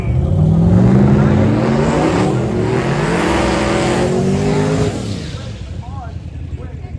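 A drag race car at the Sick Summer event makes a loud, close run down the track, its engine roaring and climbing in pitch for about five seconds before the sound drops away and fades.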